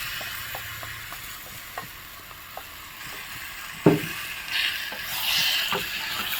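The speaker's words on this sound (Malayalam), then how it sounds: "ഇനി നമ്മൾ മസാല മാരിനേറ്റ് ചെയ്ത് വെച്ച ഈ ചിക്കൻ നമ്മൾ ഇതിലേക്ക് ചേർക്കുന്നു" Masala-marinated chicken goes into a hot pan with onion, green chilli, curry leaves and ginger, giving a soft sizzle with scattered clicks and a louder clatter, then rising hiss as it is stirred.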